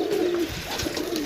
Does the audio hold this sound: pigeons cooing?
yes